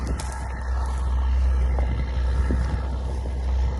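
A tractor pulling a Mzuri Rezult tine harrow across a field, heard as a steady, loud low engine drone with wind buffeting the microphone throughout.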